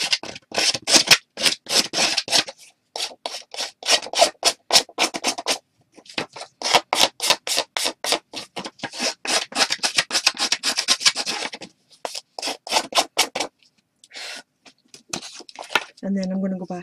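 Card stock edges for a Christmas card are roughed up for a distressed look, a rapid series of close, dry scraping and rasping strokes in bursts with short pauses between them.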